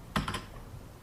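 A short burst of typing on a computer keyboard, three or four quick close keystrokes followed by quieter taps, with no talking.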